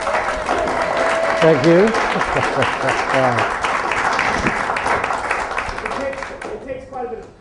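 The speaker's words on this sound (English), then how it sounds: "I'd actually like to give them a round of applause right now" At a candidates' forum, the crowd applauds the city council candidates with sustained, fairly loud clapping that tapers off toward the end, while a voice speaks briefly over it.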